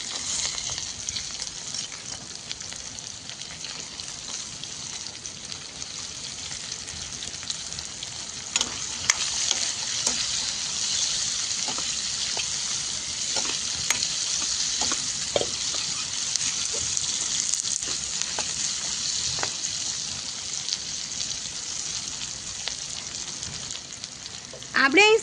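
Raw mango pieces hitting a hot tempering of spices, asafoetida and curry leaves, giving a continuous bright sizzle with scattered crackles and pops, steady and close, swelling slightly near the end.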